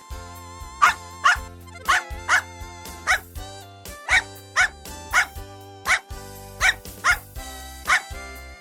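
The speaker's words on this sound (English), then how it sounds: "dog," A dog barks repeatedly, about a dozen loud, evenly spaced woofs over a steady musical backing.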